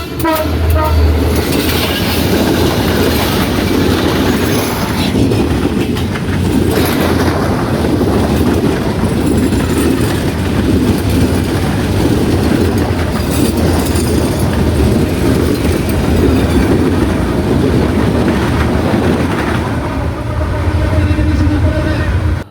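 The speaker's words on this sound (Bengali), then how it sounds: "চোখের পলকেই ছুটে আসছে দ্রুতগামী ট্রেনের গতি এত দ্রুত" A fast train rushes past along a railway line at a station, a loud, steady roar of rumbling wheels and wagons lasting throughout, close by and constant in level.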